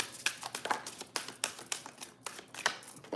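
A tarot card deck shuffled fast, a quick run of crisp, papery clicking bursts close up in an irregular rhythm, with no voices.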